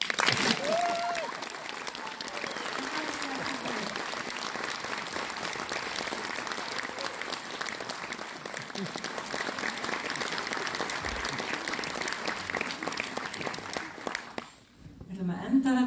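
A concert audience applauds after a performance of Icelandic song with Portuguese guitar, a dense, steady clapping that sustains throughout, then thins and fades briefly near the end before picking up again.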